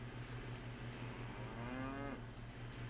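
Cows mooing in the Nancy Drew game Trail of the Twister: a drawn-out low bovine call rises and falls over a steady engine-like hum, with faint clicking ticks at the start and end.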